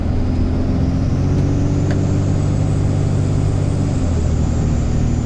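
A Cummins diesel-swapped Ford truck with a turbo cruises along a public road, its steady, loud engine drone and road rumble filling the whole stretch without a break.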